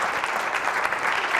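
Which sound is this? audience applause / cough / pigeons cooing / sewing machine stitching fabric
audience applause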